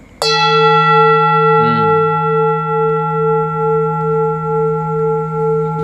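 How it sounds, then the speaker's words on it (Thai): A bell is struck once, close and loud, then rings on in a long, steady, slowly fading hum with clear overtones, alone with no talk. "เสียงตีระฆังธรรมดา ธรรมดานี่เองครับผม"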